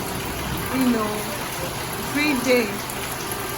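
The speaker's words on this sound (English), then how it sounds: "It's been raining non-stop, like every single day." Steady rain pours outside during a nonstop rainy spell in Nigeria, a dense hiss filling the background while someone talks over it.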